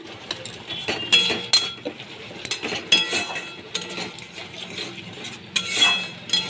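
Spice masala stirred and sautéed in a pan for katla fish curry with potatoes and yardlong beans, a spoon scraping and clinking against the metal in irregular bursts, close and moderately loud, with no talking.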